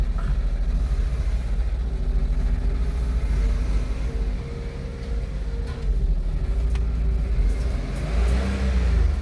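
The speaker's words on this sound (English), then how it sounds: "so I'm going to press the accelerator pedal" A Smart Fortwo mild-hybrid with a clutch fault revs in first gear as the accelerator is pressed, a steady low engine drone and rumble close by that swells slightly toward the end.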